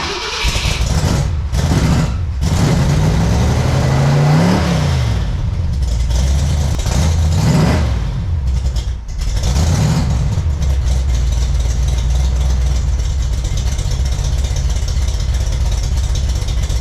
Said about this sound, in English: Pretty healthy engine, runs pretty good.